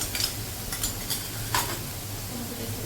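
Ginger and garlic paste hits hot oil in a pan with a steady, close sizzle, broken by a few brief scraping stirs.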